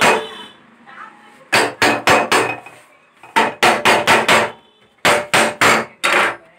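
Sharp, loud hammer blows on metal during gas stove servicing and repair, struck close by in three quick bursts of about four, five and four taps with short pauses between.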